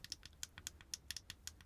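Select and start buttons on an 8BitDo Zero 2 controller are pressed in a rapid irregular series of about fifteen sharp, close, quiet clicks over under two seconds, with no voice.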